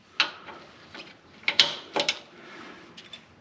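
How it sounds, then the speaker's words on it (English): A wrench ratchets on the rear track bar bolt of a Jeep Wrangler JLU, quick clicking pawl strokes and metallic taps in irregular bursts, close and fairly quiet, with no talk. "take off or unbolt the track bar right here"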